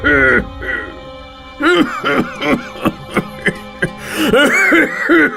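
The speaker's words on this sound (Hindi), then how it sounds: "खांसते खांसते घर लौटता।" A man coughs and clears his throat repeatedly in a rapid series of rough, close bursts, with a brief voiced groan mixed in, heard loud and alone.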